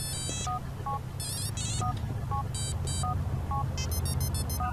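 A GTA IV in-game phone ringtone preview runs for a few seconds as a string of high, synthetic beeps and short dialing-like tones in a busy, repeating rhythm above a faint background hum.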